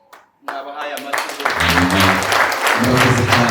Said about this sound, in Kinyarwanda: Nabahaye amashyi.